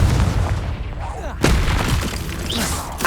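The Confringo explosive spell in Hogwarts Legacy on PS5 lands as a loud, close boom amid game effects, with a burst of crackling debris following and continuous in-game noise around it.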